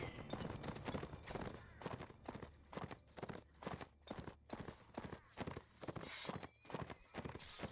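In the Mount & Blade Warband video game, a horse gallops in a fast, steady clip-clop rhythm, loud and close, with battle noise mixed in.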